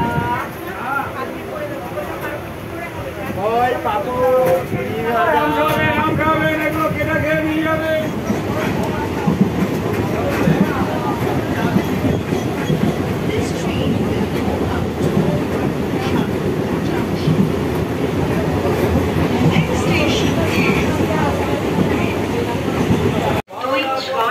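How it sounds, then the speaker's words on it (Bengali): A passenger train pulls out of Habibpur station and settles into a steady rumble and clatter on the rails for the whole stretch, heard from on board, with people talking over it at the start. "হবিবপুর স্টেশন ছাড়লো।"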